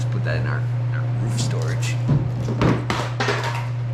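A phone drops inside a Nissan 240SX interior, landing with two dull thuds in quick succession over a steady low hum while a person talks.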